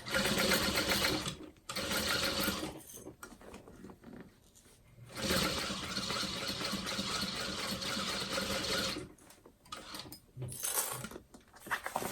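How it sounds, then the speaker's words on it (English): A sewing machine stitches a handbag seam in fast, steady whirring runs, stopping and restarting several times with brief pauses between bursts, close and loud with no talking. "You just want to sew right next to it."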